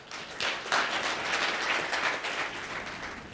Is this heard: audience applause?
yes